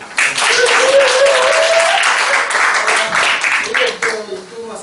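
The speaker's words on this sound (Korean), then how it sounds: "다시 한번 큰 박수." Enthusiastic audience clapping after a workshop lecture, a dense, close burst of applause that holds steady for several seconds and tapers off at the end, with a voice faintly over it.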